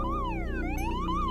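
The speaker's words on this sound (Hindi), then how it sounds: "एम्बुलेंस की आवाज से समझ आ रहा था कि वो धीरे धीरे करीब आ रही है" Ambulance siren wailing in rising and falling sweeps, steady and fairly loud over a low rumble of traffic, with no voices.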